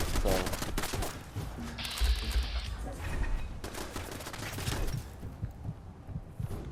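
Gunfire in the post-apocalyptic game Fallout 4, with bursts of rapid shots and impacts running steadily through a dense, loud mix of game sound, a voice briefly present underneath.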